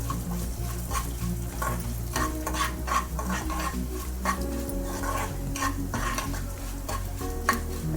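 Coriander seeds, cumin and mustard seeds fry in a pan for a green chilli pickle, a soft, steady sizzle with intermittent scraping stirs over a low background hum, no talking.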